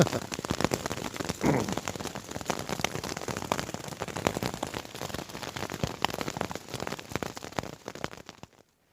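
Dense, steady patter of small icy pellets striking surfaces, a continuous crackling hiss with scattered sharper ticks, close by and without voices.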